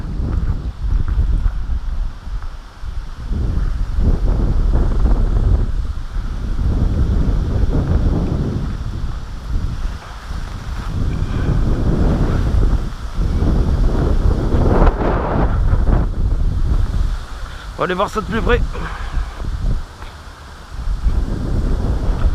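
Strong wind buffets a lakeside carp fishing spot, loud gusting rumble surging and easing in waves across the microphone, with someone speaking briefly partway through.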